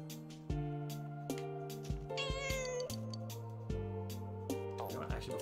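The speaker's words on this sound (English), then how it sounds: "We're just going to pet the cat." A cat meows repeatedly while being petted in Persona 4 Golden, giving several short distinct meows, with one longer wavering call in the middle, close and clear over a faint musical background.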